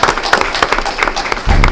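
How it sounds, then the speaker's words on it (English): An audience at a school board meeting gives a short round of applause, a brief burst of close, brisk hand clapping with a louder thump near the end. "let's give her a little round of applause"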